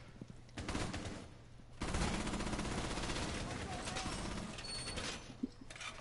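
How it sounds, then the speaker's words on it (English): Rapid bursts of gunfire crackle in the near distance, broken pops that thicken into a sustained volley for several seconds and then ease off, with a steady low hum running underneath. "People are shooting near me"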